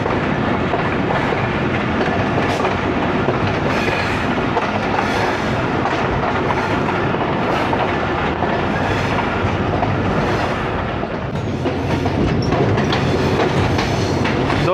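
Loud, continuous rumble of a Pakistani passenger train moving over rails on the Shekhupura–Shorkot branch line, with steady clickety-clack from the wheels and occasional sharper metallic accents.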